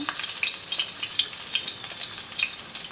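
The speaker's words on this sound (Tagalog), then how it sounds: "Dito sa pinapainit nating mantika, gigisahin natin ang bawang" Garlic sizzles in hot cooking oil for sweet and sour spicy chicken, a close, steady crackling fry with a few stirring scrapes and no talk.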